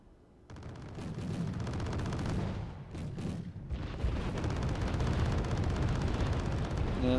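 Mortar fire in the real-time strategy game Wargame Red Dragon, a steady dense rumble of distant explosions and shelling that runs throughout without speech.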